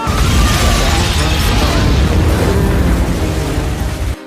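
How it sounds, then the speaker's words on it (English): A large explosion at the UN building in Captain America: Civil War, a dense roaring blast that stays loud and broad for several seconds before easing slightly. "the explosion at the UN building on the day"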